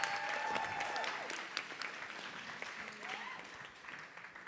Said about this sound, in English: Give a round of applause for everybody